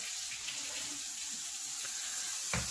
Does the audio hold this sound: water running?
yes